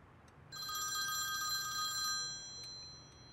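A telephone rings once with a bright trilling electronic bell lasting under two seconds, fairly close over a quiet indoor background, followed by a brief faint tail of tone.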